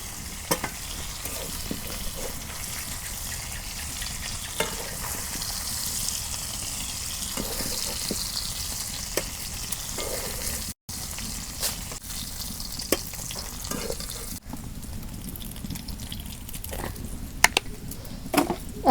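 Rupchanda fish fry in hot oil in a pan, giving a continuous crackling sizzle with scattered pops and brief clinks, steady and close throughout.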